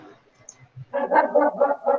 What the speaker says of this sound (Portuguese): E quem que é o cachorro que tá bravo aí, gente?